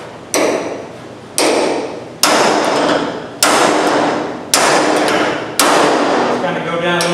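Hammer blows on the sheet metal of a car trunk: six loud, ringing metallic strikes spaced about a second apart, each leaving a lingering metallic ring, with no talk.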